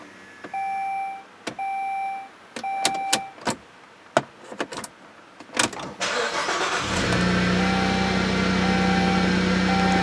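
A car's key-in chimes beep a few times among light clicks and knocks, then the engine cranks and catches at about six seconds and settles into a steady, close idle.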